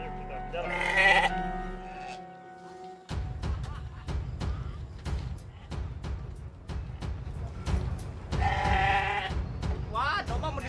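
Sheep bleat loudly and close by, with one bleat at the start and another near the end, between stretches of talk and clattering scuffle.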